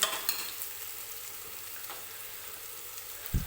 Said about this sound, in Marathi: आलं लसणाची पेस्ट सुद्धा छान तेलामध्ये परतून घेतलेली आहे